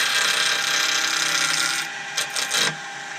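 Wood lathe with a friction drive spinning an acorn light puller under light cuts, a steady high whirring tool tone that drops away near the end into a few short scraping bursts.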